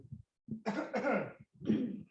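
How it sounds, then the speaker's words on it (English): A close, forceful cough in a few rough bursts, with a short pause before a final harsh cough. "when I cough"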